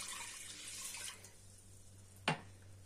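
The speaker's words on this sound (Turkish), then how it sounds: "Üzerine 2 su bardağı suyu ekliyorum." Two cups of water are poured over washed rice in a pot for baked rice pudding, making a faint, soft splashing pour that fades after about a second, followed by a single sharp clink.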